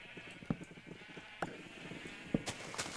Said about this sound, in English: So, is there a sheep stuck down there?